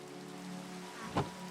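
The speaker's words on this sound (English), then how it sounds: "looks like it started raining" Rain falls in the Minecraft video game as a soft, steady patter over a low hum, with one brief swell near the end.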